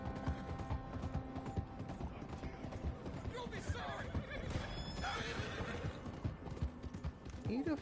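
Horse hooves clip-clop steadily in Red Dead Redemption 2, with a whinny and neighs mixed in, all running under continuous talk and game sounds.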